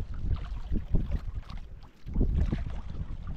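Strong Amihan wind gusts and roars in a steady, full rush, dipping briefly in a short lull and then surging back even harder.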